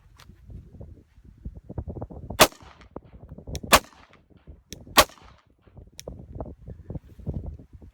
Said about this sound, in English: So let's go start off with 3 shots, 1 and 2 and 3.